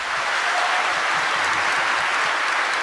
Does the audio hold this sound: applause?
yes